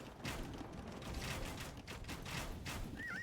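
Cannon galleons shelling a castle in Age of Empires II, a continuous barrage of dense booming blasts and crackling impacts that overlap steadily throughout, loud and without pause.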